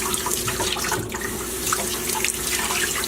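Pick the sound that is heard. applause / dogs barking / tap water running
tap water running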